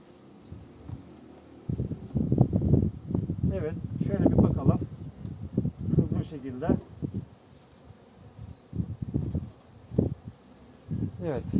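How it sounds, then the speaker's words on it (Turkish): Honeybees hum steadily at a beehive as drones begin to emerge, a constant insect drone running beneath a person talking close by throughout. "erkek arılar da çıkmaya başlamış değerli dostlar"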